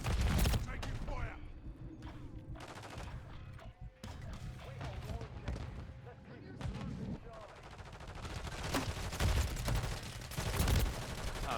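Gunfire in the game Lethal Company: repeated sharp shots and bursts, some close and loud, others more distant, spread across the stretch with mechanical clatter and occasional voices underneath.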